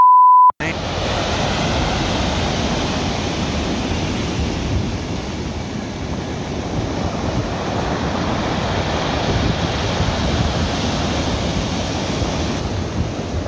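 Steady roar of rough sea surf in a bora wind, gusts buffeting the microphone, continuous and loud throughout, with no voices.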